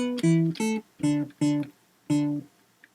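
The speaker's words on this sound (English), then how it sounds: "I want to get like a Nintendo-y sound" Bright 80s Nintendo-style chiptune synth preset in Logic Pro X, a short bouncy phrase of six clipped square-wave tones with gaps between them, alone and clear.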